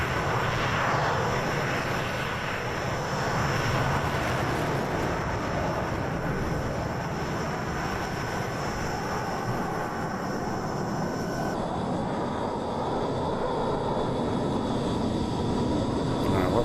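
Hawker Hunter T7 jet in Microsoft Flight Simulator 2020 gives a steady, loud engine drone with a constant whine throughout, its tone dropping slightly partway through, with no speech.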